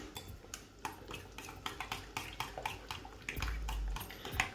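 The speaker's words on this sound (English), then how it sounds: "So all we do is now give this a good stir." A spoon working steadily through a vegetarian, eggless thousand island dressing in a bowl, giving quiet repeated scrapes and clinks in an even rhythm, close up, with no one speaking.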